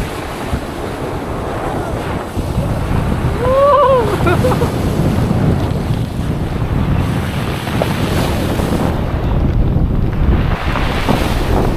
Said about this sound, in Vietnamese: Sóng to bên đây nè, gọi hồi té à.